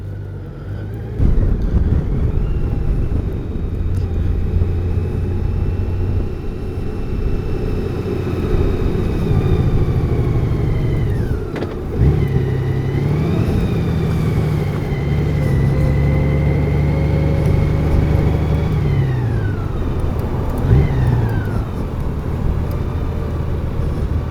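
A 2018 Honda Goldwing motorcycle being ridden, a steady engine drone with road and wind noise throughout, the pitch rising and falling as it shifts and changes speed.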